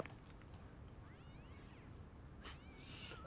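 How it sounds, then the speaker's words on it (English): A cat meows twice in a Sherlock Holmes video game, a faint drawn-out cry followed by a brighter second call over quiet ambient background. "The cat."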